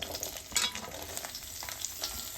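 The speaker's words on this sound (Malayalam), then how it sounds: "കുറച്ച് ചെറിയ ഉള്ളി ഇതേപോലെ പകുതിയായിട്ട് കട്ട് ചെയ്തിട്ട് ഇടാം" Halved small onions sizzle steadily in hot oil in a pan for sambar, a close, continuous crackle with a few louder spits and stirring clatters, no voices.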